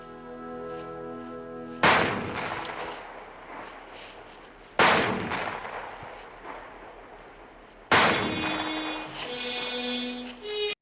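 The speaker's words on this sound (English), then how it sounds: "Three shots." Three loud gunshots from the 1955 film The Trouble with Harry ring out alone at roughly three-second intervals, each a sharp crack with a lingering echo over a faint music bed.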